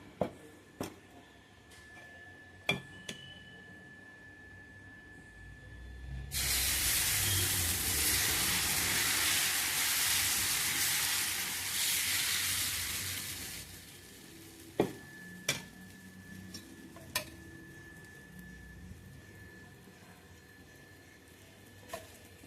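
Pumpkin dosa batter hits a hot pan and erupts into a loud hissing sizzle for about seven seconds, framed before and after by sharp clicks and taps of a ladle and pan, with no talking.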